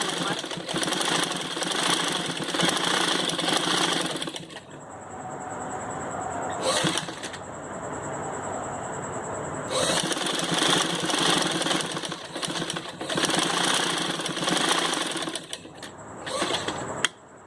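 Sewing machine running in sustained stitching bursts over fabric strips, loud and close, with brief pauses between runs and a faint voice underneath at times.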